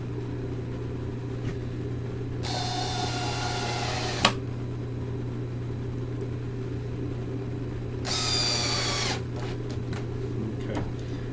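A power drill drives screws into a stable frame during assembly, with two separate whirring bursts of about a second each over a steady low hum. A small knock falls between them.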